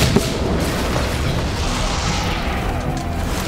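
A staged special-effects explosion on The Flash TV show set, with many stunt performers on wires, comes through as a sustained loud, rumbling blast and roar that holds steady for the whole stretch, opening with a sharp pop.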